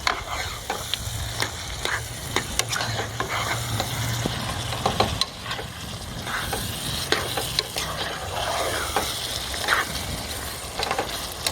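Chicken is stirred with spices in a hot pan, a continuous near sizzle with frequent rhythmic scraping and knocks of the spoon, and no voices.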